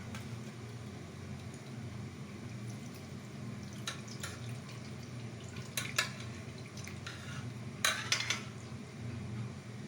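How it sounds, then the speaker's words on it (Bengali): Milk curds (chhana) for rosogolla are strained through a kitchen strainer. Quiet, steady trickling and dripping runs throughout, with a few faint metallic clinks of utensils. "এবার ছাঁকনির সাহায্যে সেই ছানাটা ছেঁকে নিচ্ছি।"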